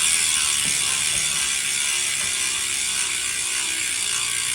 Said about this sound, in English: for the guys who want to hear the hub sounds, I love silent hubs, and this is definitely not that